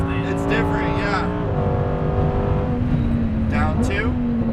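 A Lamborghini Huracan Performante on a race track in Las Vegas revs hard, its engine note climbing and dropping through gear changes, loud and close beneath a driving instructor's steady talk.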